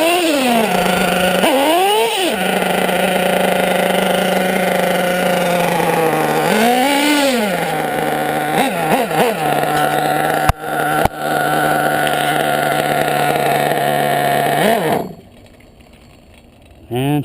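LRP 28.8 nitro engine running rich during break-in, buzzing steadily at high idle with brief rises and dips in pitch before cutting out near the end; loud and close.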